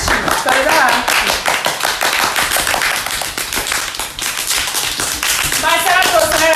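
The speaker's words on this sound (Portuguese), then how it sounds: "Palmas pra ela." Sharp, rapid hand claps ring out in a fast, irregular run, loud and close. Excited voices and music from a reaction session sit underneath.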